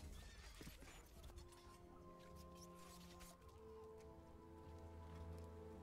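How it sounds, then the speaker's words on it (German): Horses in the Stronghold Warlords strategy game whinny loudly over clip-clopping hooves and game ambience, several neighs overlapping in quick succession. "Pferde."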